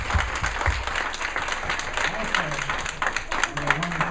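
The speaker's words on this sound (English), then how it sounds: "give this beautiful couple a round of applause" Wedding guests giving a round of applause, a lively patter of clapping under someone speaking at the reception, with a few louder claps along the way.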